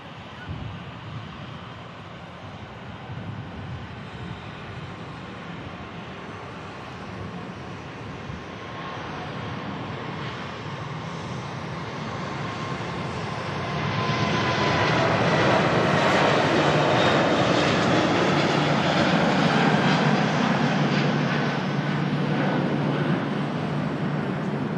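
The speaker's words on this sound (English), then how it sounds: "Emirates A380 now rolling, heading back to Dubai." An Emirates Airbus A380 rolls for takeoff bound for Dubai, its jet engines a broad, steady roar that swells louder partway through and holds at full strength, with wind noise and no talk.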